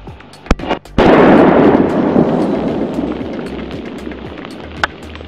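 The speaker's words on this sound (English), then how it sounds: "We finally achieved sizable explosion with just 50 grams of sodium." Sodium, 50 grams, reacting explosively in water: a sharp, loud blast bursts out after a couple of small pops, then rumbles and hisses as it slowly decays, with a few faint crackles near the end.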